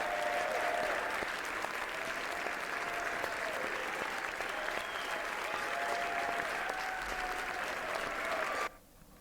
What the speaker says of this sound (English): I forgot to let them have their moment of applause.